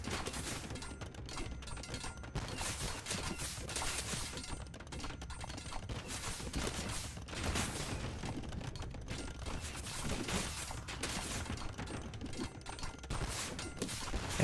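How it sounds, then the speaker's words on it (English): Rocket carts fire in a medieval real-time strategy game battle, a dense, continuous crackle of rapid pops and bursts like fireworks, steady and loud across the whole stretch with no speech. "And rocket carts, they need to sound like fireworks."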